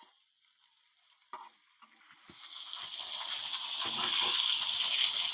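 Tomatoes cooking in a pan for chammakaya pickle: a few stirring clicks and knocks, then a steady sizzle that slowly grows louder and fuller, close by.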